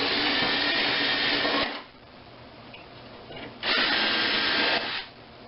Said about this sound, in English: So what we'll do is I'm going to pre-drill this.